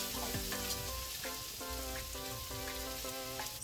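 Shrimp fried rice seasoned with salt and Maggi sizzles in a pan, a dense continuous frying hiss with crackles, while faint tones ring in the background.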